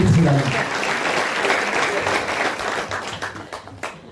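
Congregation at a Sunday worship service clapping together, a dense, steady wash of hands that stays loud across the moment, with voices mixed in underneath and a slight fade toward the end.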